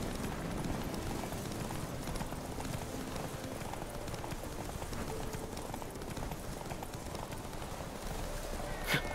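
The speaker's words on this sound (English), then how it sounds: "is there another horse on the trail? But it's a wild horse." A horse gallops along a trail in the video game Witcher 3, with rapid, continuous hoofbeats at an even pace, fairly faint and steady for the whole stretch, with no talk.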